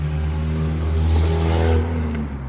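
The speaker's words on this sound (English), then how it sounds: "I hear a tractor going by." A tractor passes at a distance as a steady, loud low engine drone that swells slightly and then eases off, with no talking.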